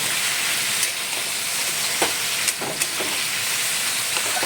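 Onion, green chili, turmeric and salt sizzle steadily in a hot pan, with a constant frying hiss and a few sharp scraping clicks from stirring scattered through the clip.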